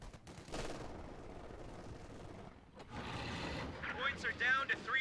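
Light machine gun fire in the Company of Heroes 2 strategy game, with dense bursts of automatic shots over a steady battle din that grows louder and busier toward the end.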